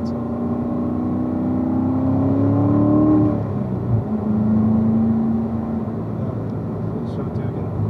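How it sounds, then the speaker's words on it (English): A car engine revs during a downshift. Its pitch climbs and then drops sharply partway through, before a steady rev is held and the sound settles back to a lower hum. "Listen to the engine."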